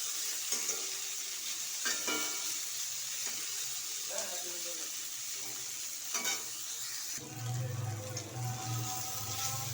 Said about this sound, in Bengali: এবার আমি শিমটাকে একটু হালকা ভেজে তুলে নেব।